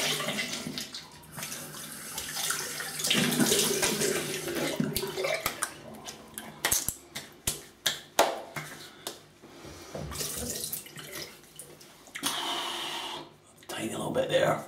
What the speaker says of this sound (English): let me have a little rinse and feel